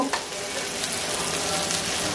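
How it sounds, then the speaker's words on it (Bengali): Eggplant, tomato, and green and red chilies fry in a pan with a dense, continuous close sizzle and faint stirring, no voices. "4-5 মিনিট ভেজে বেগুনগুলো একটু নরম হইলে, একটু ভাজা ভাজা হয়ে যাচ্ছে"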